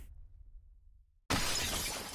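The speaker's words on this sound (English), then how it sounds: "The nightmare knocks off the jar in Hella's hand. It smashes on the ground" A glass jar smashes on the ground in the game Path to Nowhere, a sudden bright shattering crash after near silence, followed by a sustained spray of tinkling fragments.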